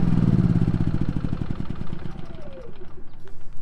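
An Onan 4500 portable generator is shut down: the steady, loud, close rumbling engine chugs on, then slows and stutters to a stop in its final second with a falling whine.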